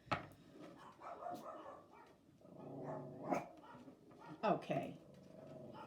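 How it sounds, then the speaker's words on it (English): Dogs bark repeatedly in the middle of the night at 4 a.m. The barking is clear but moderately distant, and a person talks quietly over it. "I have no idea what the heck they're barking at."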